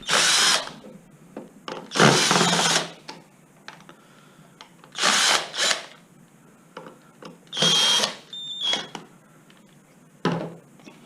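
A power drill removes screws from a scooter cover. Several short, close whirring bursts are separated by quiet gaps, with faint handling clicks between them.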